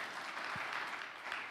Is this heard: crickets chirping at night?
no